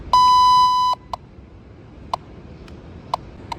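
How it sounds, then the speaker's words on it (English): An electronic rally master clock gives one long steady beep, then several short, sharp single beeps at uneven intervals over a quiet background. "we're waiting for the beep"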